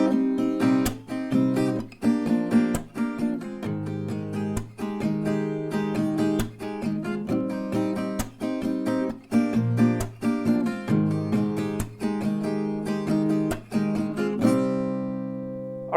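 Acoustic guitar strummed in a steady rhythmic pattern for a song, bright chords with sharp attacks, ending on a ringing chord that fades out.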